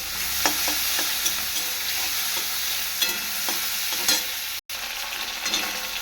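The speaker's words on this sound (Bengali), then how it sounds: "এবার চিংড়ি মাছটা ভেজে নেবো" Shrimp frying in hot oil in a home kitchen pan, a steady loud sizzle with stirring scrapes and clicks throughout, with one brief dropout near the end.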